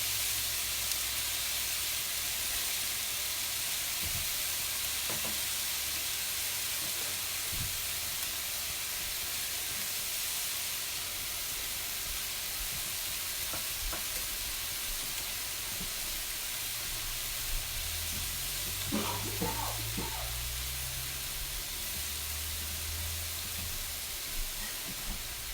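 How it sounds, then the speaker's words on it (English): Chicken sears in a hot pan for a casserole, a steady broad sizzle and hiss running the whole time, with a few faint clinks and a low rumble toward the end. "You want to let it sear pretty good on one side before you start flipping."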